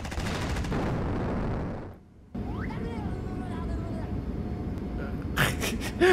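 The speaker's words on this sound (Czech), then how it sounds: "On do nás střílí, cože?" Gunfire in the Roblox game Rob the Mansion Obby, dense bursts of shots at the start, a brief drop-out, then game sounds and further sharp reports near the end.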